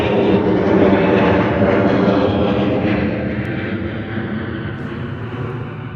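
A Wizz Air jet departing London Gatwick, a strong engine roar that is loudest at first and then gradually fades as the aircraft pulls away.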